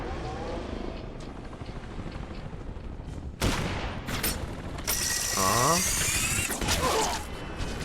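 Gunfire in the video game Resident Evil: Operation Raccoon City: a sudden loud burst of shots breaks in midway, followed by further blasts, whooshing and mechanical whirring, over a background of muffled voices.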